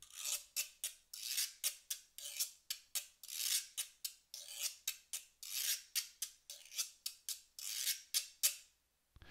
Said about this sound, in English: the typical rhythm for the güiro, it also has an ostinato